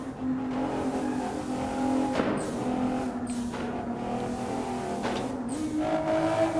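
A modified Renault Clio's turbocharged engine revs hard through a tunnel in the Assetto Corsa racing game, a loud, steady droning note that rises and shifts pitch with a few gear changes, sustained throughout with no talk.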